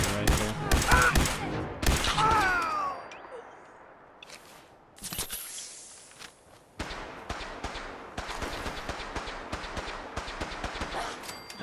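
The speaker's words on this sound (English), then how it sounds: "I'm surprised you're taking this much damage from the laser rifle" Laser rifle fire in Fallout 4, rapid sharp zapping shots in quick bursts, loud and close, mixed with other combat noise, while someone talks over part of it.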